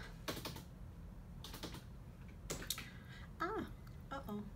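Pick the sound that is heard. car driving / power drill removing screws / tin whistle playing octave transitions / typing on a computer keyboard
typing on a computer keyboard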